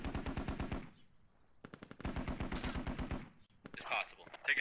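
Automatic gunfire in the military video game Squad: two long, rapid machine-gun bursts with a short pause between, loud and close, followed by scattered shots and sharp cracks.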